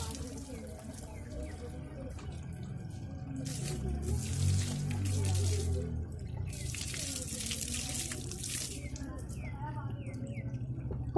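Water splashes and trickles during a bath, a steady wet spatter that swells in the middle, with voices talking over it.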